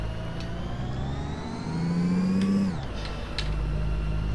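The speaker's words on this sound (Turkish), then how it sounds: "Aracımızı çalıştıralım. Birinci vitese takalım. Ufaktan kalkmaya çalışalım." Volvo truck engine in American Truck Simulator starting up and pulling away in first gear, a steady mid-pitched diesel drone whose pitch climbs as it revs, then drops sharply at a gear change before settling again, no talk.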